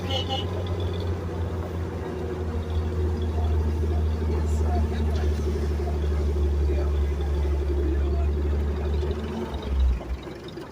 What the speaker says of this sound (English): 1942 army truck.